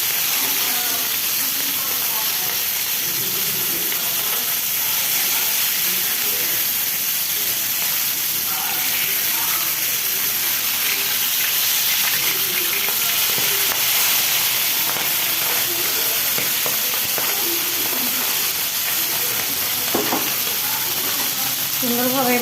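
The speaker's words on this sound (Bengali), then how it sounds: "আর এখানে আবার যে পটল তরকারি হয়ে যাচ্ছে, কষাই করছি" Pointed gourd curry being stir-fried in a pan, giving a steady, loud sizzle throughout. Occasional scraping of the spatula sounds over it, with faint voices in the background.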